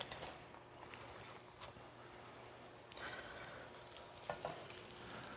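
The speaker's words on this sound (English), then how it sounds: "So we're going to stir fry the vegetables here a little bit here first." Cabbage and other vegetables stir-frying in a restaurant wok, a faint steady sizzle with light scraping and clinks of stirring running continuously at low level, with no speech over it.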